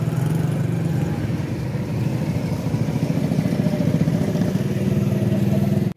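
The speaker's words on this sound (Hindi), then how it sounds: "ये देखें यार गाड़ियों का रश चेक करें।" Heavy road traffic jams a busy street, with motorcycles and cars idling and passing close by in a continuous, fairly loud engine drone and clatter, no voices over it.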